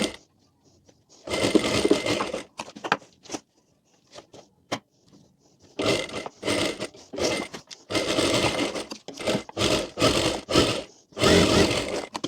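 A sewing machine stitches a pleated lehenga for a young girl in loud, close bursts of rapid mechanical clatter, broken by short quiet pauses and a few light clicks between runs.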